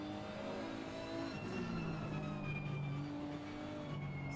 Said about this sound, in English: It's a twin turbocharged Nissan V6. Sounds pretty good.